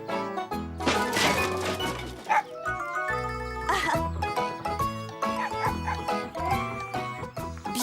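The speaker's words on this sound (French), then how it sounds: "On dirait qu'un chiot aboie sous ses caisses." Sharp high-pitched yips and barks from a cartoon puppy under crates repeat several times, mixed with music and crashing sounds.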